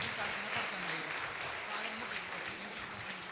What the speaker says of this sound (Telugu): మనం గట్టిగా చప్పట్లు కొడదాం